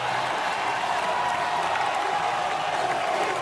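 A frenzied stadium crowd roars at an Oklahoma Sooners home football game against Michigan, a steady, dense wall of cheering and noise that holds at the same loud level throughout without a break.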